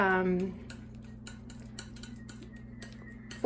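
Palette knife working oil paint with added oil on a palette, soft repeated light taps and scrapes under a steady low hum, after a brief voice at the start.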